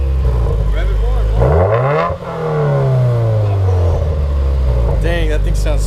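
Subaru WRX engine fitted with a Nameless axle-back exhaust, running without gaskets and with an exhaust leak, revs up loudly and close by, climbing in pitch, falling back, then revving again, while people talk over it.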